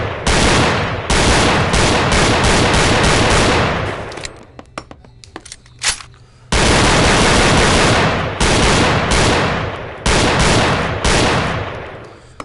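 M9 pistol fired in the Gun Club VR shooting game, loud and close, with repeated sustained bursts of sharp shots broken by a brief pause of scattered clicks and handling noises before firing resumes.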